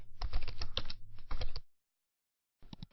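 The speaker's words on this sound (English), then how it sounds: "Then go back to the software and type your ClickBank name into it." Rapid clattering keystrokes on a computer keyboard, a dense close burst for about a second and a half, then silence, then a brief second flurry of taps at the end, with no talking.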